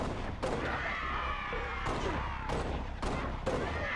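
Gunfire from Halo Reach as the player shoots Grunts with headshots, a run of sharp, evenly spaced shots cracking over the game's background noise.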